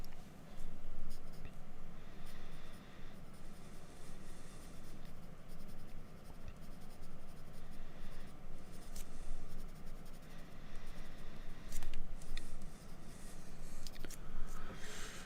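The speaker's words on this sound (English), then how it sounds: "this is where I'm going to start to kind of taper off with the heavy pencil lines" Heavy pencil strokes sketch misty tree lines on paper, a steady close scratching and rubbing that continues with small pauses and faint background noise.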